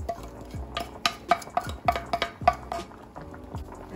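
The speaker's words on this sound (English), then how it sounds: "I'm just gonna give this a nice stir" A spoon stirs Jamaican red peas soup with salted beef in a pot, a quick series of close, sharp clinks and scrapes against the metal over a soft liquid swish.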